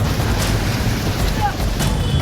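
Strong storm winds of about 80 km/h blow through Delhi, a constant loud roar with gusty rumbling on the microphone and no pauses.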